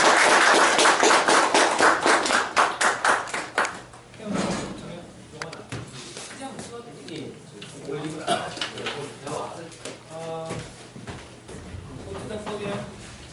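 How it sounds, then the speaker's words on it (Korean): Lecture-hall audience applause after a university guest lecture, a loud burst of crowd clapping that fades after about four seconds, followed by quieter sounds and talking. "권 교수님께 마지막으로 박수 부탁드리도록 하겠습니다"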